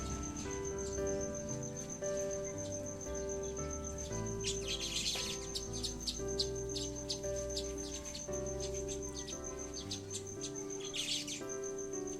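Feeding birds chirp and tweet repeatedly over a steady insect drone, with brief bursts of busier twittering; no voices.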